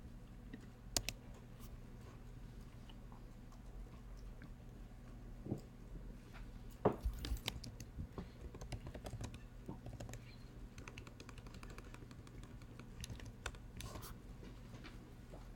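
Soft, quiet keyboard typing while entering code for an iOS networking lesson, scattered keystrokes and clicks over a steady low hum, close but faint with no talking.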